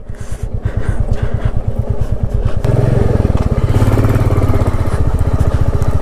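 A 350 cc motorcycle climbs a steep uphill mountain road near Lamahatta, Darjeeling, with its rear wheel skidding. The engine thumps loudly and steadily throughout, and a rougher, strained surge of revving comes in partway.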